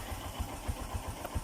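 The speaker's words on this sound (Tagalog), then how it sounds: "Tatanggalin nyo lang, tapos aantar na agad ang mga boss yung badya natin." A Bajaj CT100 motorcycle engine, started without a key, idles at close range with a regular low thumping beat of roughly three to four pulses per second.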